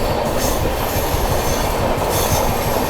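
Gorakhdham SF Express train running along the third line on an Indian railway, a loud steady rumble of wheels on track with rhythmic clatter and wind noise throughout, no voices.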